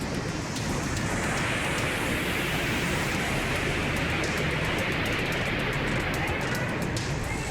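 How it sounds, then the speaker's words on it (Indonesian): Heavy rain pours during a flash flood in Gunung Kidul, Yogyakarta, with floodwater carrying stones and large timber. The roar of rain and rushing water is dense and continuous, loud and unbroken throughout. "Hujan deras menerjang kawasan ini hingga banjir membawa material batu dan juga kayu besar."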